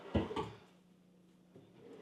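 A sliding drawer in built-in shelving in a luxury model home in Richmond gives two soft, quick thuds as it slides and stops, followed by a quiet room.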